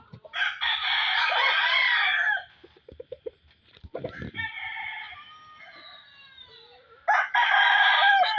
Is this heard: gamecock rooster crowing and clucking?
yes